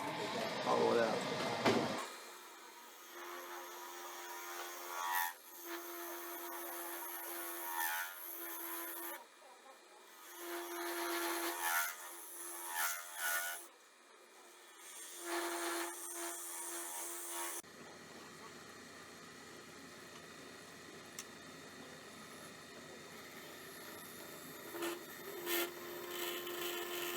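Scraping and rasping of a steel scraper hollowing out a small wooden acorn box of Osage orange on a lathe, coming in uneven bursts over a steady turning hum, with no one talking.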